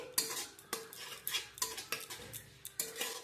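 Metal spoon scraping and clinking against a pan as sour yogurt is stirred continuously into a potato-cauliflower curry over a low flame, a steady run of close, sharp taps and scrapes with no talk.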